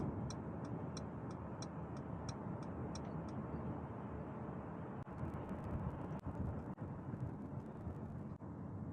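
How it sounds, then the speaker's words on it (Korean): A car's left turn signal ticks in a regular, evenly spaced rhythm for about three seconds over steady road and engine noise inside the moving car, then stops while the drive continues. "자, 다시 좌측 깜빡이."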